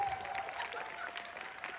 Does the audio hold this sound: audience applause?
yes